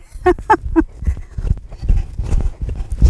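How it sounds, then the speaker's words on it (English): Horse hooves beating out a small collected sitting trot shifting toward a medium trot during a dressage-style ride, a steady rhythmic clip-clop close by, with a brief voice at the start. "So this is a small sitting trot, small collected trot to a medium."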